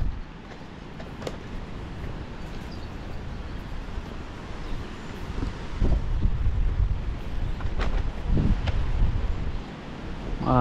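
Strong wind buffets the microphone at Weymouth Beach, New Zealand, beside a rough, choppy sea, a steady roaring rush that swells slightly toward the end with no voices.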